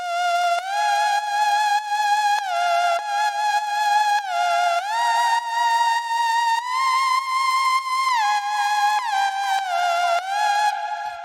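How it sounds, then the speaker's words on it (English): A bright, buzzy sawtooth synth lead from the Cheerful Saw preset in SynthMaster One plays a cheerful melody in crisp repeated stabs with pitch glides, loud and alone throughout. "I needed that classic stabbing, raving lead sound, so I found this preset here"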